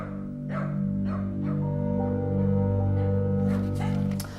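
Dogs bark and yelp repeatedly in quarantine kennels holding seized puppies at a Dogs Trust rescue centre, a steady chorus of overlapping calls with a low hum behind it.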